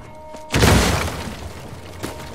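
Dynamite explosion in the action video game Uncharted 4: a sudden loud booming blast with crackling debris that decays over a second or two, followed by a fainter second burst.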